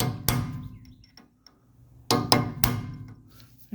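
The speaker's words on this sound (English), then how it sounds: "So let's go ahead and knock out the other side." Several sharp metallic hammer knocks on rear brake caliper pins of a 1981 Mercedes 300SD, one early then a cluster of three, close and fairly loud with short ringing tails.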